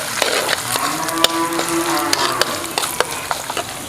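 Coconut pieces fry in a pan with popped mustard seeds over medium flame for beef ularthu, a continuous crackling sizzle dotted with sharp pops and stirring scrapes, close and fairly loud.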